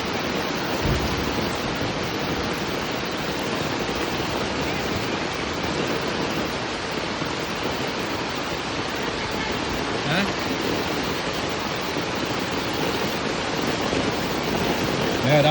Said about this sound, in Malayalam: മഴയാ മഴ.